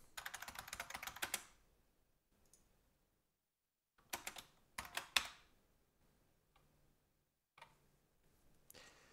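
Computer keyboard typing in short bursts, crisp close key clacks in clusters separated by pauses of near silence, with no voice.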